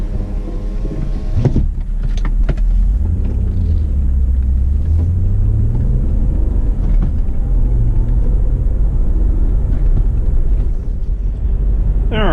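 A 2007 Honda Accord V6 with a six-speed manual rumbles along on the road, with low engine drone, heavy wind and road roar throughout and a few brief knocks from inside the cabin.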